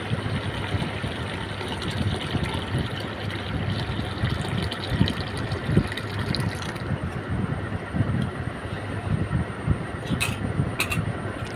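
Milk poured into a pot already smeared with yogurt culture, making homemade yogurt from cow's milk; a steady, continuous liquid rush fills the clip, fairly loud and unbroken, with no talking.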